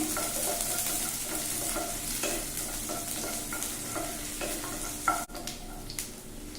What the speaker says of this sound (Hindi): प्याज को लाइट फ्राई करेंगे।